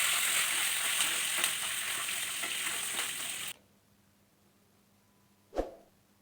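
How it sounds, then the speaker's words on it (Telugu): Green chillies, dried chillies and curry leaves fry in hot oil with a bright, dense sizzle and crackle, close by, that cuts off abruptly midway and leaves near silence broken by a single sharp knock. "ఫ్రై అయిన తర్వాత 4 పచ్చిమిర్చి ముక్కలు, 2 ఎండుమిర్చి ముక్కలు వేసుకొని కొద్దిగా కరివేపాకును కూడా వేసుకొని ఫ్రై చేసుకోవాలండి"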